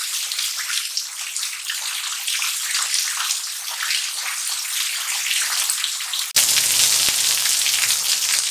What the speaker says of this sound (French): comme vous pouvez le constater, il commence à pleuvoir énormément.